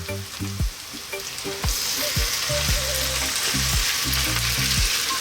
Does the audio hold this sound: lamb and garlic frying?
yes